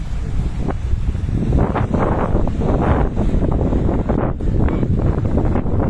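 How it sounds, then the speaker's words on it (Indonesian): Strong gusts from an approaching storm and waterspout on Lakeba Beach in Baubau, roaring continuously and buffeting the microphone at close range, with surging bursts and no talk. "Mulai angin-anginnya itu sampai di sini."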